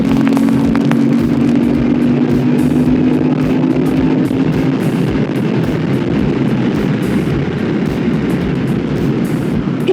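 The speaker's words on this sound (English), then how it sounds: "this is the bike I'm riding right now, DL1000, v-strom 1000" A Suzuki V-Strom DL1000 motorcycle of nearly 100 horsepower is being ridden, its engine a loud continuous drone mixed with heavy wind rush, steady for the full ten seconds.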